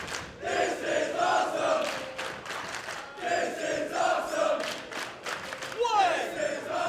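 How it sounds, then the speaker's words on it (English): A wrestling crowd in Galway chants in rhythmic, repeated bursts in appreciation of both fighters, loud massed voices rising and falling in waves for several seconds. "The crowd showing their appreciation for both men."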